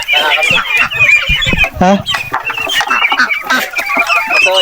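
Guinea fowl call noisily on a farm, a loud, close, rapid chatter of harsh clucking cries that continues throughout, with a brief voice in between.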